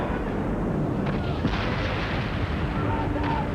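Heavy booming cannon blasts over a dense, rumbling background, several thuds in quick succession with a chaotic battle din throughout.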